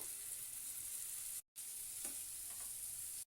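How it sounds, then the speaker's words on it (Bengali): Spice paste with chopped tomato, onion, salt and turmeric frying in a pan, giving a faint, steady sizzle with a few light stirring clicks and a brief break in the middle. "মশলাটা ভালো করে কষিয়ে নেব"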